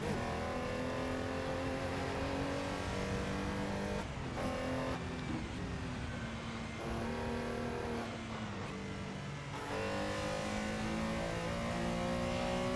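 Race car engine from a 1967-era racing video game at Circuit Zolder, droning loudly and continuously with rising and falling revs through gear changes, a brief dip in pitch mid-lap, and no talk over it.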